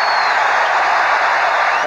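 Arena crowd at a 1992 Trail Blazers at Los Angeles Lakers playoff basketball game, cheering in a loud, steady roar of massed voices and applause that fills the whole stretch.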